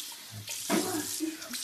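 Tap water runs briefly into a sink as shaving cream is rinsed off a face, a short steady splash with a brighter burst midway, fairly close and heard without speech.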